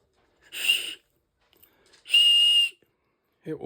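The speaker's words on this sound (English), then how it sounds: "You got an emergency whistle." Two shrill whistle blasts, a short one then a longer steady one, loud and close, with a brief breathy sound after.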